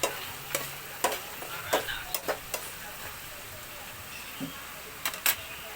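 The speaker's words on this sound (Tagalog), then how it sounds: "haluin natin siya" A spoon scrapes and knocks through chicken estofado frying with fresh tomato in a pan, irregular sharp clacks over a low sizzle.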